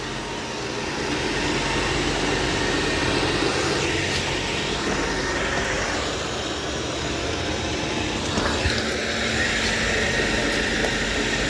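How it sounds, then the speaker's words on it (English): A Dreame L10S Ultra Gen 2 robot vacuum cleans a floor with a steady mid-level whirring hum, a continuous motor drone with slight shifts in tone as it moves. "Yep, that's doing an excellent job of vacuuming."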